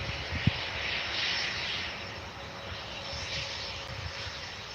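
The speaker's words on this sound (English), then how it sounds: "got a little private jet just landed." Outside at Manchester Airport, a small private jet that has just landed gives a distant, steady engine whine and rumble that hangs in the background, with a brief knock early on.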